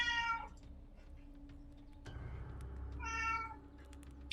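A cat meows twice, close and clear, once at the start and again near the end. Soft rustling and a low rumble fill the gap between the meows.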